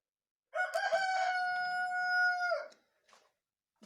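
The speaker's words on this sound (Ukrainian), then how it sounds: "то сусідський півень замучує." A neighbour's rooster crows once, a long, loud, strained call lasting about two seconds, followed by quiet.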